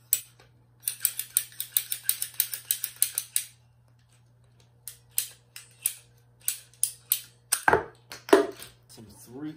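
3/4 inch plumbing pipe being cut with a ratcheting cutter, a rapid run of sharp clicks, a pause, then more bursts of clicks and a crack, close up over a faint hum.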